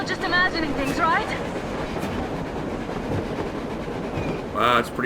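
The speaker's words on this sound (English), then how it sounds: "A train! A damn train on the surface!" A train rolling across the surface in the video game Metro Exodus gives a steady loud rumble with rhythmic rail clatter, and a horn-like tone sounds near the end, under occasional voices.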